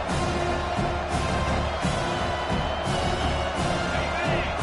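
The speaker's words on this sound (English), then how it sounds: "Listen to this crowd just shaking the girders of this place, trying to help their defense." A stadium crowd at an NCAA football game roars in a dense, constant wash of noise, loud and unbroken, with faint whoops rising now and then.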